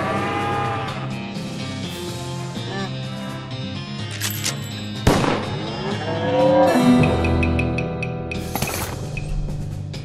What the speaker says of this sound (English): Blocked by a large moose.